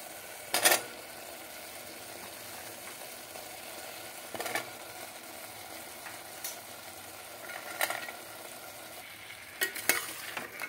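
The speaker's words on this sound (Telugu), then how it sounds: "టమాటాలు, వెజిటేబుల్ కలిసేటట్టు మిక్స్ చేసుకోవాలి" Tomatoes and vegetables for millet pulao sizzle in a pan under a steady frying hiss, while a spoon stirs them with a few sharp scrapes and clinks.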